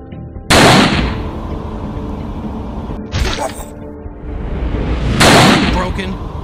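Gunshots in the shooter game Range of the Dead, three loud sharp blasts spaced a few seconds apart, each with a long rumbling tail over a dense steady game soundscape.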